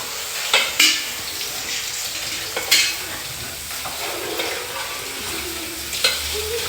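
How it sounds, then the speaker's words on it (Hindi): Eggplant frying and being stirred in a pan, with a steady sizzle and faint scraping broken by several sharp utensil clatters against the pan; close and fairly quiet, with no talking. "अब जी इसको भून लें अच्छे से"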